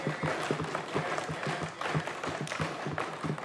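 Members of parliament applaud during a sectoral debate, producing a fairly faint, continuous patter of many hands with some desk tapping beneath, steady throughout with no speech over it.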